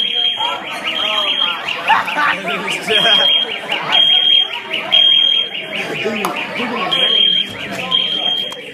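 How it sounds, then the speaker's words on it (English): A school fire alarm rings in a steady high electronic tone under excited students chatting close by, with pulsing beeps recurring through the crowd noise. "He set off a freaking fire alarm."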